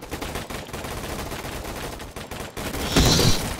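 Rapid gunfire in a shooter video game, dense bursts of shots with a loud, sharp blast near the end.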